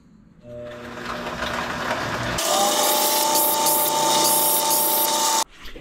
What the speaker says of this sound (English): Now I'm gonna sand the edges,